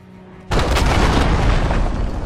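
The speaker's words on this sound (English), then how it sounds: "Enemy cruise missile incoming." A cruise missile explosion in the video game Modern Warfare, a sudden loud boom after a quiet moment that rolls on as a dense, sustained roar.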